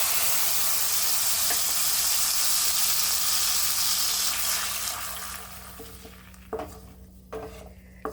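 Ground tomato paste goes into a hot pan of thippili rasam, where a loud, dense sizzle rushes for several seconds, then gradually dies away, followed by a few soft clunks of a utensil.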